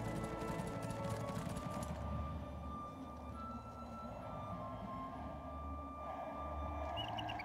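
Horse hooves clip-clop steadily in Settlers 6, a medieval strategy game, set against a dense, continuous bed of game ambience and music.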